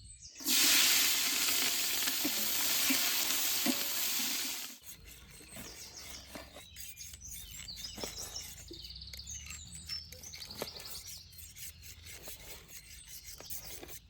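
Green chillies hit hot oil with a loud, bright sizzle for several seconds, then fade into a quieter, crackling fry with birds chirping in the outdoor background.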